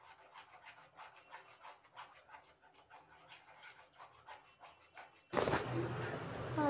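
Besan (gram flour) mixture is stirred and roasted in a pan for ladoos, giving soft repeated scraping strokes at an even rhythm, faint and close, before a sudden louder burst of broadband noise near the end.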